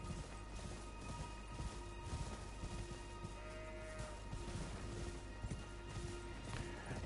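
Enemy rider's horse in the video game Elden Ring, hooves clip-clopping steadily through a dense, busy game soundscape with low rumble and music, fairly quiet overall.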